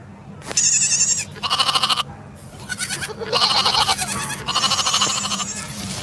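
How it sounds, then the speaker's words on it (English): A goat bleats repeatedly in close, loud bursts, four or five wavering calls separated by short pauses over a low background hum. "G for goat."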